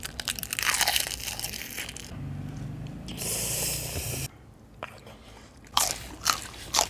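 Crunchy biting and chewing on Thai pickled shrimp in fish sauce with hot steamed rice, several close, loud crunches with short quiet gaps between them.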